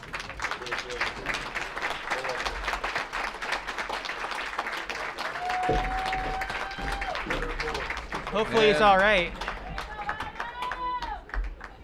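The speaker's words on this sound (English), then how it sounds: "A nice hand from the crowd." Crowd at a Barrie Baycats home-opener baseball game gives sustained applause for an injured player, steady clapping throughout with a swell near the end, under a play-by-play announcer talking.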